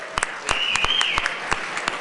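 Scattered handclaps from a small group in a legislative chamber, welcoming a visiting group of Colorado cattlewomen, with a brief whistled cheer rising over the sparse, uneven clapping.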